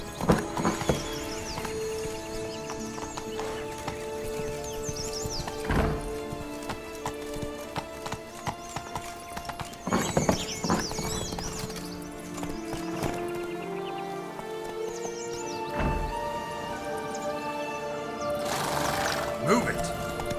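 Horse hooves clip-clop at a steady gallop in The Witcher 3, with neighing and whinnying, over layered game music and ambient sound, loud and continuous throughout.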